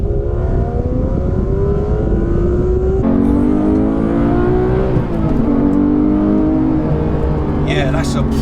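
A Porsche 911 GT3 accelerates hard in second gear, its engine note loud and close as it climbs steadily in pitch, with a sharp step around three seconds and continuous wind and road roar underneath.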